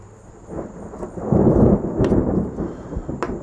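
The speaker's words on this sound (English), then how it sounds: "As I mentioned, storms are coming." Thunder from an approaching storm rolls in, a low rumble that swells to a loud peak mid-way and then sustains with a few sharp cracks, with no talking.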